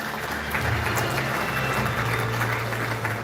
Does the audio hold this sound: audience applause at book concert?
yes